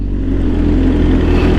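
A motorcycle engine revs and holds a loud, close, continuous low rumble for a moment with no talk over it.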